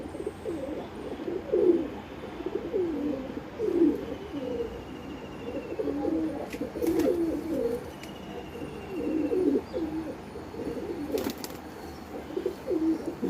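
Pet pigeons drink from a water basin after feeding, their cooing rising in repeated, overlapping bursts close by, with a few brief higher chirps over a quiet background.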